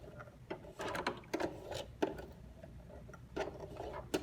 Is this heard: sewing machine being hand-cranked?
yes